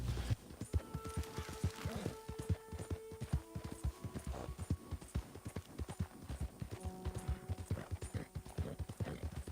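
Horse hooves clip-clopping in the video game Red Dead Redemption 2, a steady, loud rhythmic clatter of a ridden horse moving at a walk or trot, with an occasional brief snort or neigh.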